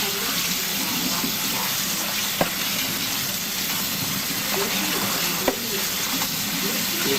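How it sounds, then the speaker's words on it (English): Salted giardiniera vegetables being rinsed under a running kitchen tap, a loud, continuous rush of water into the sink with a couple of faint clinks underneath. "Rinse them really good. Rinse off a lot of that excess salt."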